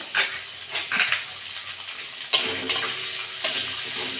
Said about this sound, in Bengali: রসুনটা অল্প ভেজে নিয়েছি, ওর মধ্যে আমি পেঁয়াজগুলো দিয়ে দেবো।